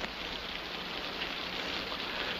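Steady, dense rain pours down outdoors during a 1960s World War II drama scene, a continuous broadband hiss that fills the whole stretch with no talk over it.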